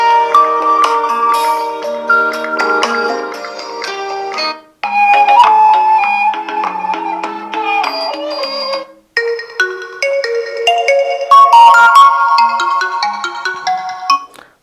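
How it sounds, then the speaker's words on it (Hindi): Several ringtones play in turn at full volume through the dual stereo speakers of a Tecno Camon 30S phone, bright melodic chimes separated by short pauses, loud and close with no talking. "कुछ रिंगटोन्स यहाँ पर चला लेते हैं।"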